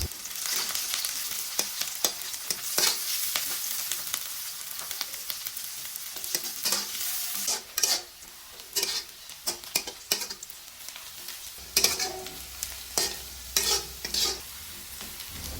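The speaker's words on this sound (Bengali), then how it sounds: "এই তেলের মধ্যেই আমরা কেটে রাখা পেঁয়াজগুলো ভেজে নেব পেঁয়াজও আমাদের মচমচা করে ভেজে নিতে হবে" Sliced onions frying crisp in hot oil, a loud close sizzle with frequent scraping and clattering stirs against the pan, busy and irregular, with no voices.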